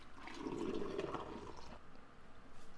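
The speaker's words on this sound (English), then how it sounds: "So he's just going to wash it with the vinegar and water." Oxtails being washed in a mix of vinegar and water, running water splashing and swishing steadily at close range, loudest early on and easing toward the end, with no talking.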